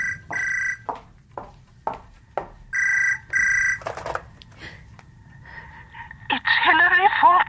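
A telephone rings in a BBC radio horror drama, sounding two pairs of short, bright bell bursts near the start and middle, with breaths, soft rustling and a brief vocal sound afterward.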